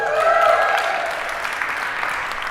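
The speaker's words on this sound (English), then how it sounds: "Round of applause for Denver." Steady, dense applause from a seminar audience for Denver at an entrepreneurship talk, loud and sustained throughout with a faint voice or tone briefly over it near the start.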